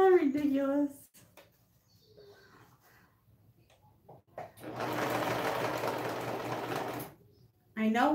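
A newly unboxed serger runs for a burst of a little over two seconds, a loud, fast mechanical whirr with rapid ticking, between stretches of someone talking and quiet pauses.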